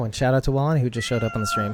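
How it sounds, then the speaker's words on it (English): A cat meows loudly and close, its drawn-out tonal cry overlapping a man's speech and tangled with his voice. "That was my cat."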